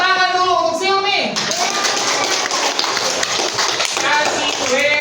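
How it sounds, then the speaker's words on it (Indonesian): Children in a classroom clap together in a steady, dense burst of applause, mixed with young voices talking and calling out over it. "kasih tepuk tangan dulu untuk Silmi."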